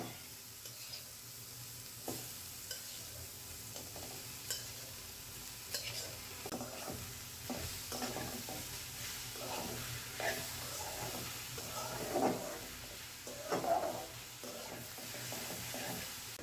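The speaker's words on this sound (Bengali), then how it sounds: "পেঁয়াজটা ভাজা হয়ে গেছে, এখন আমি সেদ্ধ করা শাক দিয়ে দিচ্ছি।" Boiled mustard greens fry with onions in a pan, giving a steady soft sizzle broken by repeated stirring scrapes, close and moderately quiet.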